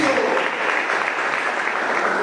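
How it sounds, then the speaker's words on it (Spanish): Church congregation clapping for Jesus Christ during a Spanish-language service, a dense, steady wash of applause that fills the whole stretch without a break. "¿Cuánto le pueden dar palmas al Señor Jesucristo?"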